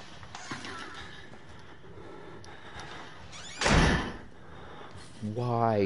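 A door slams loudly in the Outlast horror video game, a sharp heavy bang standing out midway through quieter in-game ambience, followed by a voice near the end.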